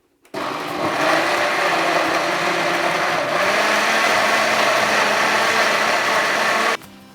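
A blender motor whirs loudly and steadily for several seconds while blending soybeans for soy milk, starting abruptly and cutting off just before the end, with no voices.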